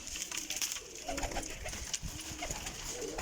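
Pigeons of a breeder's loft coo softly and repeatedly at close range, a low rolling murmur with no talk over it.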